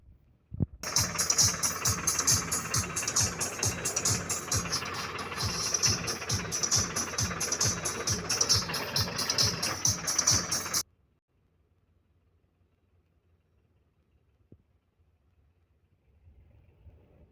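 A tractor decked with lighting idles in a village, its engine thumping in a steady, even pulse for about ten seconds before cutting off to near silence with a faint low hum.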